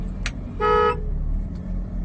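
A car horn gives a short clear honk during a driving lesson, with a brief tap before it, over a steady low engine hum from inside the car.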